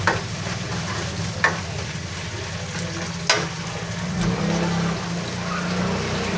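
Shrimp paste (alamang) sizzles in a pan with a steady, close crackle, a few sharp stirring knocks, and a low background hum.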